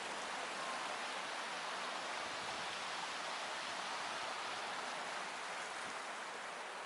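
Shigitatsu stream, a short small creek in Ōiso, flows with a steady, even wash of water noise, unbroken and moderately quiet throughout.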